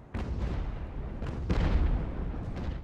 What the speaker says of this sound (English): Come on, ships, fire. Fire at them.